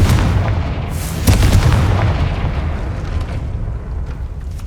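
A Confringo fire spell blast in the Hogwarts Legacy video game, opening a gate: a loud booming burst that rolls into a long rumbling decay.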